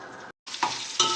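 Whole garam masala spices with salt sizzle and crackle in hot oil as they fry golden for a degi chicken korma, with the steady hiss briefly cut off and then resuming with stirring.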